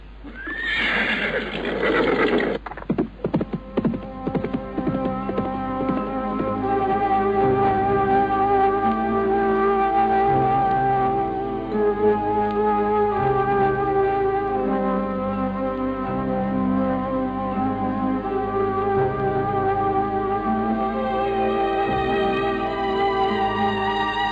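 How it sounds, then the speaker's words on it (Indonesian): A horse whinnies loudly over clattering hooves as riders set off, then sustained tonal music swells and continues under faint hoofbeats. "Kita sudah cukup lama berkuda"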